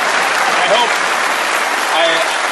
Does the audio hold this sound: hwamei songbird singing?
no